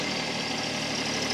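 A small tractor engine idles steadily up close, a continuous low, even rumble with no voices over it.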